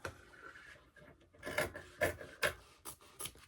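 Rhythmic rasping snips and rubbing scrapes as a fabric edge is trimmed for a rifle barrel dust cover, several close strokes in quick succession with no talk.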